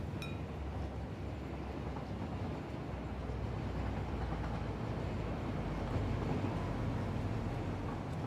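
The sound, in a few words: train passing in the video game Satisfactory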